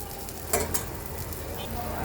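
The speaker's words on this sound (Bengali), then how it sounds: "চলো পেঁয়াজটাকে সুন্দর করে আগে ভেজে তুলি" Chopped onions frying in a pan for a prawn dopiaza, a steady close sizzle with a couple of sharp crackling bursts from the oil.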